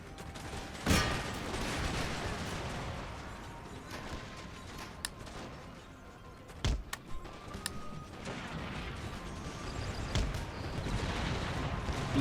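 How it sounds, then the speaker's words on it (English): Cannon fire in the video game Imperial Destroyer: scattered sharp booms and cracks over a dense battle din, several distinct blasts spaced irregularly, some loud and near, others softer in the background. "Few cannon shots, getting in the arse, bouncing through the unit, causing mass casualty"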